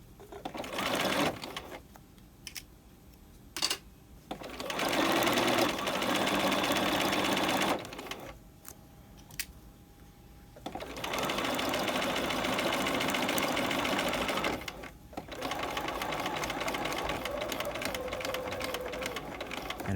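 A sewing machine stitches piping onto a V neck at a short stitch length. It hums steadily in several long runs, with brief pauses and clicks between them, loud and close, and no one speaks over it.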